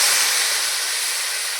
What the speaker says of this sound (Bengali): ভালো করে ভেজে নিচ্ছি, তেল কিন্তু ছেড়ে দিচ্ছে